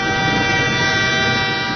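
A train's horn blasts steadily and loudly for the whole moment, one continuous sustained toot with no break.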